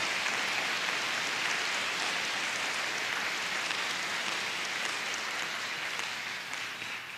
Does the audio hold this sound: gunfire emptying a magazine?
no